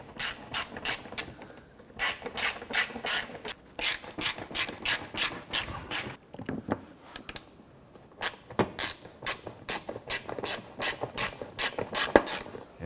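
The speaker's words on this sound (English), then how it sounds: "Let's go ahead and install our three screws." A ratchet tightening screws on a 2006-2013 Chevrolet Impala bumper cover, rapid close clicking in bursts of ratcheting strokes with brief pauses between them and no talking.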